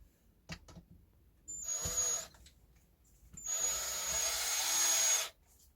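Cordless drill driving screws into a wooden bench hook board, two close whirring bursts, a short one near 1.5 to 2 seconds and a longer one from about 3.3 to 5.3 seconds, separated by quiet handling knocks.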